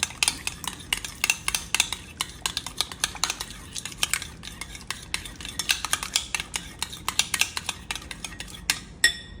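Spoon stirring adobo seasoning through food in a bowl, with a steady run of close, sharp clinks and scrapes against the bowl, fairly loud throughout and no talking.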